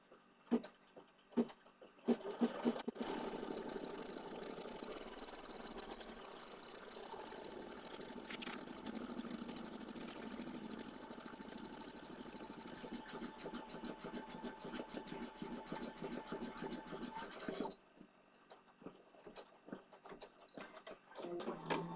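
A home embroidery sewing machine runs a green-thread design, its needle motor buzzing in a steady, continuous rapid whir for about fifteen seconds after a few clicks, then stopping abruptly into quiet with faint handling clicks.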